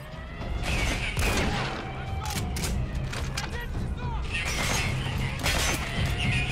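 Gunfire in Metal Gear Solid 5 The Phantom Pain, scattered sharp shots and mechanical clanks over a steady rumble, with a person talking throughout.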